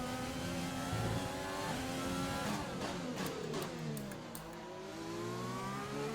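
A Ferrari Formula 1 power unit in the racing game F1 2020 screams down a straight, a loud continuous high-revving whine with rising pitch sweeps and quick shift changes near the end.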